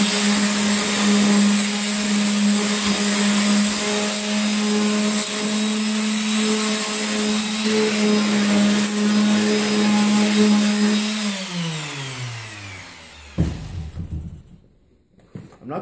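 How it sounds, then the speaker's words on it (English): A power sander runs steadily on wood with a constant whine, then winds down near the end, followed by a thump and brief handling noises. "So then this is when I'd hit it with my sander."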